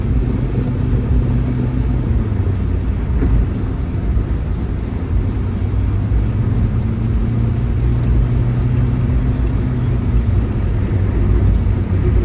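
A car engine strains and accelerates in Phoenix, a steady loud low rumble holding throughout with slowly shifting pitch, no voices over it.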